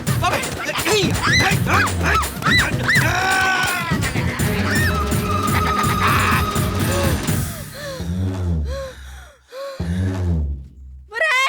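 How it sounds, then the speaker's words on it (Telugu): A dog barks and yelps repeatedly, close and loud, mixed with shouting voices and a bleating-like animal cry. "కుక్క వదలు."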